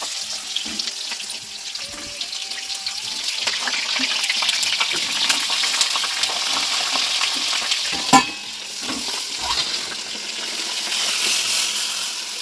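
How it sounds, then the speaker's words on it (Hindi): Stuffed green chillies fry in hot oil in a home kitchen with a steady, bright sizzle that runs the whole time, close up, with a few faint clinks and one sharp knock of the pan as they are turned. "और मिर्च को आराम से पलट रहे हैं ताकि इसका मसाला ना अभी बिल्कुल भी चलाया नहीं था"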